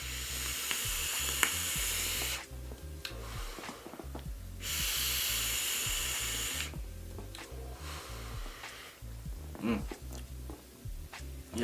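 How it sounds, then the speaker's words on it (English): Vape coil sizzling on an Ardent RDA with the airflow fully open during a draw: steady crackling hiss in three long bursts separated by brief pauses, close and fairly quiet. "Let's have a vape."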